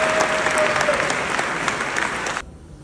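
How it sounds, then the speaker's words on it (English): An audience claps steadily and fairly loudly for a couple of seconds, then the applause cuts off abruptly. "An applause, guys."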